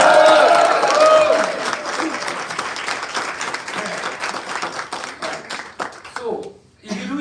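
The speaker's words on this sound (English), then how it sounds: "Everybody give everybody a big round of applause." Audience applause from a crowd, loud dense clapping at first that gradually thins and fades into scattered claps, with voices and a chuckle surfacing toward the end.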